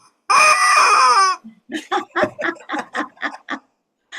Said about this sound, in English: I have a little mini rubber chicken.